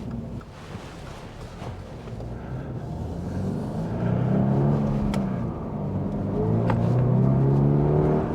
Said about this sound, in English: I really do like that almost 3-cylinder sound that the flat fours have